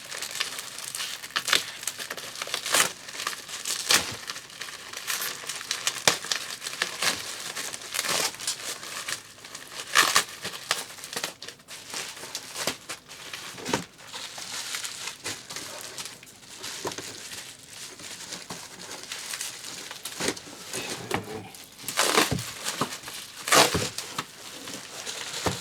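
Plastic packaging crinkled and peeled off while unboxing a Boomerang Sprint V-2, a long run of close, irregular crackling and rustling with sharp tearing bursts.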